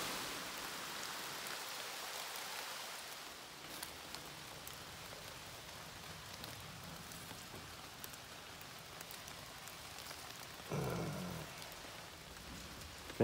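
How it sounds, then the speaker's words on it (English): Steady rain falling in wooded hill country, a continuous close patter on leaves and surfaces with no talking, holding an even level throughout. "Find you a place to hide from the rain."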